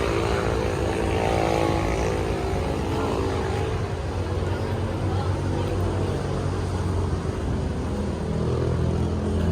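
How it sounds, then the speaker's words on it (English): A propeller airplane drones overhead, a steady broad engine roar that stays loud throughout, heard outdoors on a wet day at Walking Street in Clark. "Oh, airplanes."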